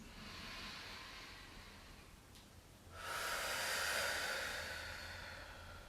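Slow yoga breathing, a soft drawn-out breath followed by a louder, longer airy exhale close to the microphone, with no talking.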